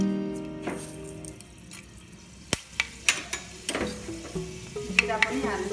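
Fenugreek seeds sizzling in hot oil for a Nepali curry, a steady close frying hiss broken by sharp clicks and taps of stirring.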